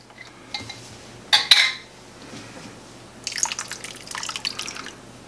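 Tomato juice poured into a soup pot for homemade veggie beef soup: a short splashing burst early on, then a longer liquid pour later, with faint kitchen clatter between.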